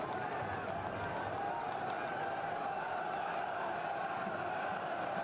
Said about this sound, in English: You can hear the fans there getting a little bit restless inside Loftus Road.